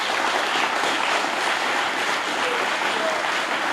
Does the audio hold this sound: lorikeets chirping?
no